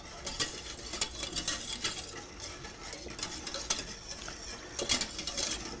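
Heavy cream and milk being mixed together in a bowl for strawberry gelato, a brisk, rhythmic stirring and whisking with light clinks of utensil on the container, close and moderately quiet, without speech.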